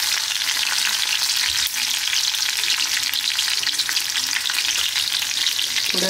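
Mustard seeds and green chili sizzle and crackle steadily in hot ghee, a close, continuous frying hiss with faint stirring and no talk.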